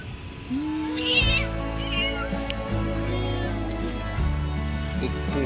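A pregnant cat lets out one short, fairly loud meow followed by a fainter second call, heard alone against a steady low-pitched background hum.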